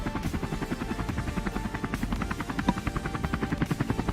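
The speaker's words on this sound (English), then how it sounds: "Why is there a random helicopter effect?" A helicopter sound effect in the video game Outmode, a steady rhythmic rotor chop with a buzzing drone, fairly loud and continuous throughout with no talk.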